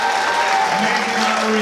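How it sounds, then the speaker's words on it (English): Applause from the crowd at a digital marketing awards dinner honoring the night's honorees, a dense, steady wash of clapping with a faint voice or tone running beneath it. "Give the honorees a round of applause."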